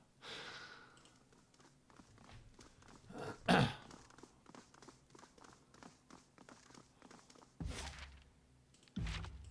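During a Tyranny game session, a man clears his throat once: a short, sharp, loud burst in the middle, set against faint game sounds and quiet background noise.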